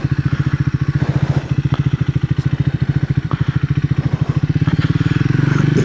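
A Triumph Speed 400 motorcycle engine thumps steadily up close, a loud, even single-cylinder pulse that slows and settles as the bike comes to a complete stop, with a slight rise at the end.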